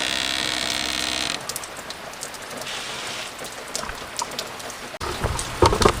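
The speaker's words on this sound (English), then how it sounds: "It's pouring right now." Heavy rain pours steadily with a dense roaring hiss and pattering drops close by, briefly interrupted by clunks and shifting noise partway through.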